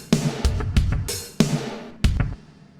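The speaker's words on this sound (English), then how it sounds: "I have an original hi-hat which sounds like this." Unprocessed hi-hat hits in a mix session, a handful of sharp bright strikes with short decays in an uneven rhythm, close and alone without talk.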